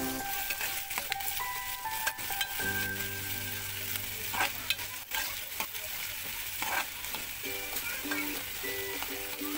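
Onions fry in a big spoonful of oil over a high gas flame, a steady dense sizzle running throughout with scattered stirring scrapes and faint tonal background music underneath; no one speaks.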